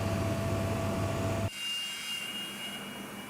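Concorde jet engines spool up on the ground, a broad roaring whine with a steady tone that cuts sharply partway through and gives way to a thinner high-pitched engine whine. No voices are heard.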